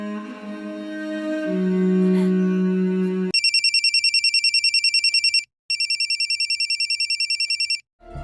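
In a film scene a telephone bell rings in two loud, rapid trilling bursts after a sustained musical tone, sharp and close, ending with a short pause.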